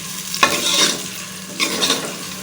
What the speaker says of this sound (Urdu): اب ہم اس میں پیاز ڈال لیں گے۔ ایک بڑے سائز کا پیاز ہم نے کاٹ کے رکھا ہوا ہے، وہ ڈال رہے ہیں۔ اب اس کو مکس کریں گے۔